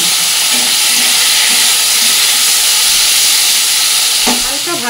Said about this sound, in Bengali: এবার আলু যে বেগুন কেটে রেখেছিলাম সেটা একসাথে সবটা ভেজে নেব।